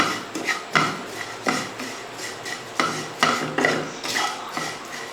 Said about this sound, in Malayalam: ഇപ്പം നല്ല ചൂടല്ലേ, ഇപ്പോൾ ഒന്ന് ഇളക്കി കൊടുക്കാം